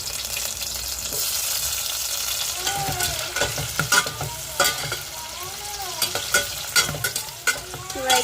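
Onion, capsicum and green chilli pieces fry in hot oil, producing a continuous crackling sizzle close by, with spatula scrapes and clatters against the pan coming in quick irregular bursts.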